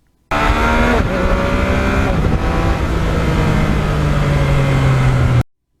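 Yamaha MT-09 three-cylinder naked motorcycle ridden hard on twisty back roads, its engine droning loud and close with rising and shifting tones as gears change via the quick shifter, no voices over it.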